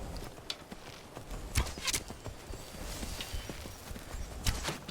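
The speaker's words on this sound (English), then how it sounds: "And a little punchy horse charge to the face." Horse hoofbeats thunder during a charge in a video game battle, rapid irregular clip-clop impacts with sharp louder strikes scattered over a continuous busy din, at moderate volume.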